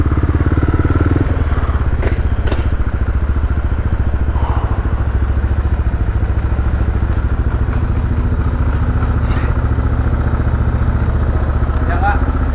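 A motorcycle engine idles steadily at close range outside a hotel in Bandar Lampung, Indonesia, a continuous low rumbling throb with occasional clatters, while people talk nearby.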